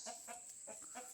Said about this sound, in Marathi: ही एक मोठी कोंबडी, हो मोठं एक कोंबडो बघा केवढो तो कोंबडो.